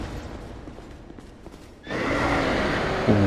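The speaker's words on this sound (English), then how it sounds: "And there's a horse over there." A horse neighs loudly and close by in the dark fantasy video game Dark Souls 2, a sustained whinny that breaks in suddenly after a quieter stretch of ambient game noise, with a low snort near the end.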